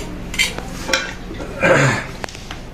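Plates and cutlery clink and scrape as chow mein mixed with tomato sauce is eaten at a shared meal, with a few brief, close clatters and a louder stretch of scraping near the middle.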